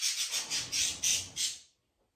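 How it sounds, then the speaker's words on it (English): Pet birds chatter indoors in a rapid series of bright, close squawky calls, about seven bursts in quick succession before falling silent. "Those are my birds."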